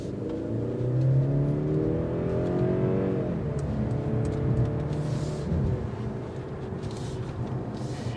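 A 2022 Mercedes-Benz C300 accelerates hard from inside the cabin, its engine note rising steadily in pitch, easing back briefly as it shifts, then climbing again under a constant loud drone of road noise.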